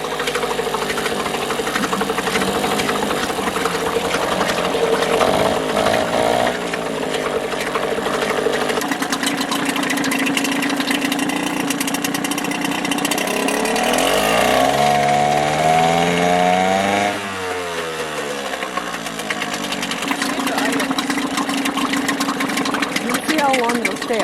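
An outboard boat motor runs at a steady low idle after a carburetor cleaning, a continuous mechanical drone that holds throughout while a voice talks over it.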